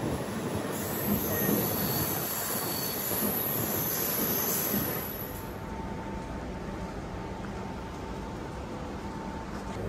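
A Rajahmundry–Kakinada Port MEMU passenger train rumbles steadily along the tracks, loud for the first half then easing to a quieter, even roll with a faint high whine above it.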